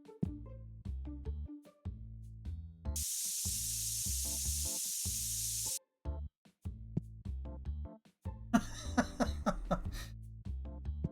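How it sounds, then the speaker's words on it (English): In the video game TCG Card Shop Simulator, a spray can hisses in two long bursts at smelly customers inside the card shop, heard over looping background music and small game sound effects. "where you have to spray the customers who smell bad"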